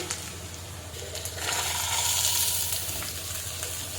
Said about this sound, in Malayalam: ശേഷം ഇതിലേക്ക് നമുക്ക് സവാള അരിഞ്ഞു വെച്ച് ചേർത്ത് കൊടുക്കാം